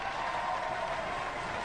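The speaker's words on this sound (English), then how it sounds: "Give Roadblock a round of applause!" Steady applause from a studio audience at Robot Wars, a dense even wash of clapping that holds at a constant level throughout.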